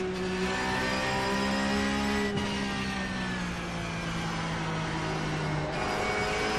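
Race car engine in the iRacing sim during an offline race, a loud steady drone with shifting whining harmonics as the engine holds and eases revs, continuous throughout.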